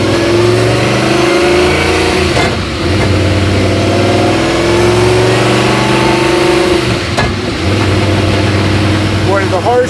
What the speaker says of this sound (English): the harshness of those shifts would just never get boring